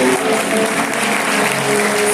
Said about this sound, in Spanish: aplauso para el Señor en esta noche.